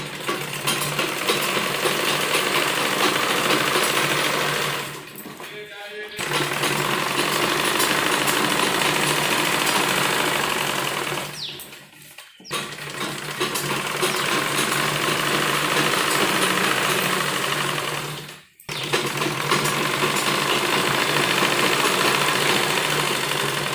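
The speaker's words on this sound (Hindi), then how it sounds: "तो यहाँ हम आधा इंच कपड़ा लेकर सिलाई करेंगे।" A sewing machine stitches salwar fabric in long, steady runs of fast, even mechanical chatter, close and loud, stopping briefly three times before starting again.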